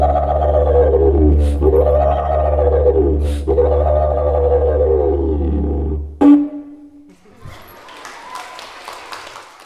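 A didgeridoo imitates the call of a brolga, a very large crane: a loud, close, steady low drone with three rising-and-falling whooping swoops, then it breaks off with a clunk followed by quiet rustling.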